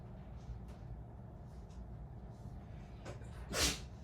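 A single sharp sneeze bursts out near the end, brief and fairly loud against a low, steady room hum, with otherwise quiet background.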